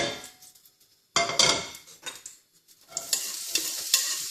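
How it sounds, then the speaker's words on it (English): Garlic, onions and peppers stir-fried in very hot olive oil in a pan, with scraping stirs and bursts of sizzling that swell and fade over a few seconds. "I'm just going to stir fry these a little bit just to soften them"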